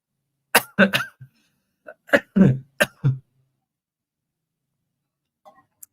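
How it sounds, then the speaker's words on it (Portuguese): A handful of dry, close coughs in short bursts with pauses between, then near silence with a couple of faint clicks at the end. "Eu peço desculpas pela tosse"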